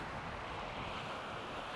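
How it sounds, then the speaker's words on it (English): Steady coastal wind rushing over the microphone on the Bristol Channel shore at Minehead, blended with a soft wash of surf; constant and moderately quiet, no voices. "Although it's really windy,"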